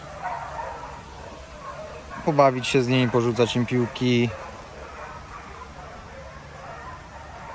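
Dogs at the Soi Dog shelter in Thailand give a brief burst of barks and yips, close and fairly loud, while someone talks nearby.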